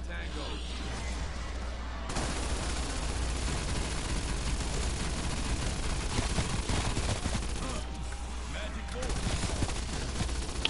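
Loud, nearly continuous automatic fire from a PPSh submachine gun in Cold War Zombies, with dense bursts running through the clip over game noise and a player talking.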